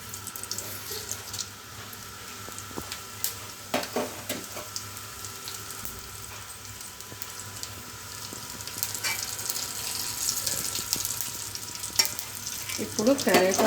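Cumin seeds crackle and fry in hot oil in a pan for a village-style tomato chutney, a steady soft sizzle running throughout and growing a little louder and busier toward the end, with no talking.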